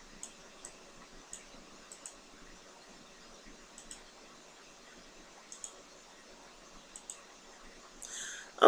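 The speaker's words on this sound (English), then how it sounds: "I'm clicking the wrong buttons here." Quiet computer mouse button clicks, single taps spaced irregularly every second or so, close and soft over a faint fan-like hiss, ending with a brief louder noise.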